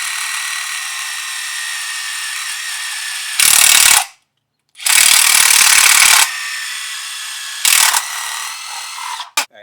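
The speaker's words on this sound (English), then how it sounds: "now I'm going to take my hammer drill and drill straight into the concrete" A hammer drill grinds into a concrete garage floor in loud, harsh bursts, with a steady high whine running underneath and short pauses between the drilling spells.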